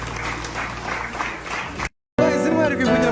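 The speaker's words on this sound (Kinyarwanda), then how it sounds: "ntimubure guhuza ibiganza byombi amashyi n'impundu" Wedding guests clap in a dense burst of applause mixed with crowd noise. After a short gap of silence, more lively sound follows, with tonal voices rising over it.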